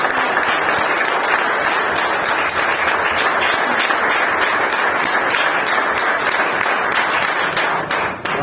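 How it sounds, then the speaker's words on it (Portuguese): A church congregation claps together in praise at an evening worship service, a loud, dense and continuous roar of hands that holds steady for the whole stretch before dipping briefly at the end. "vamos começar com uma belíssima salva de palmas para Deus"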